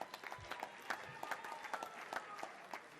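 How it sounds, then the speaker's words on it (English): An audience applauds at a surfing awards ceremony, with soft, scattered and irregular clapping at a modest level and a light crowd murmur beneath it. "Big round of applause for our women's number 2, Alana Blanchard."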